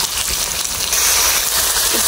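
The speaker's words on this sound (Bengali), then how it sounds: "মুরগির মধ্যে কয়েকটা আলু দিয়ে আলুগুলো একটু ভাজা নিতেছি" Potatoes frying in hot oil alongside chicken, a steady, loud hiss and crackle without pause, close up.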